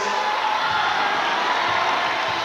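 A basketball crowd rises to its feet at a championship game, a loud sustained roar of voices and cheering filling the arena without pause.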